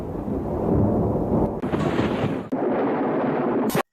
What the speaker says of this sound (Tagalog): Pangilat man gani diri astang kusuga awa paminawa